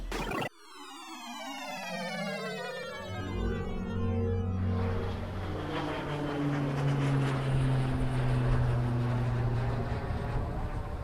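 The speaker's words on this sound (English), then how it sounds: "That is a single prop plane." A single-engine propeller plane drones overhead, its pitch sweeping downward as it passes, leaving a steady engine rumble that lingers.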